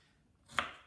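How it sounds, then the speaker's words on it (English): A single knife chop cuts through half an onion on a board, one sharp close thud after a quiet moment. "So we're gonna start with half an onion. I'm gonna just chop that down a little bit"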